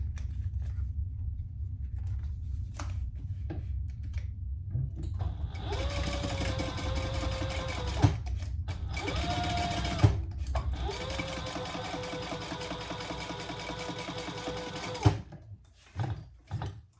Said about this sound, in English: And then I'm gonna top stitch this across just the top.